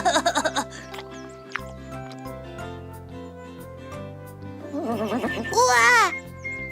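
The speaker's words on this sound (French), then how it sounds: "le cheval s'éloigne d'eux" A cartoon horse in Léo le camion gives a rising, wavering whinny near the end, following a stretch of music and animated voices with other squeaky cartoon sounds.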